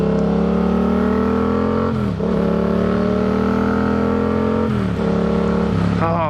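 Motorcycle engine running steadily on a road while being ridden, a loud continuous drone with harmonic tones that shift in pitch around gear changes, close and alone without talk.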